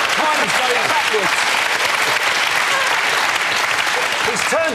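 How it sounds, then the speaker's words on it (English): A studio audience on a panel comedy game show breaks into loud, dense applause that holds steady throughout, with faint voices buried under the clapping. "I'll say anything to get a round of applause."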